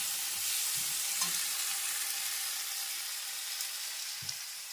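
Chana dal tadka sizzles steadily in a pan, a continuous hiss of frying with a few faint stirring clinks, close by and with no talk.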